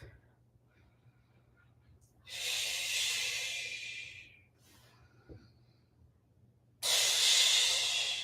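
Slow, deep breathing during a stretching routine on a mat: two long, close hissing breaths, the second one stronger, with a quiet pause between them.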